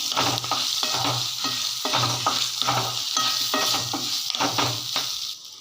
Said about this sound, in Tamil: இந்த எண்ணெயிலேயே மிளகா நல்லா பொரியட்டும்